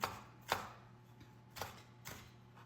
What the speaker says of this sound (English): Chop them up pretty good, fine.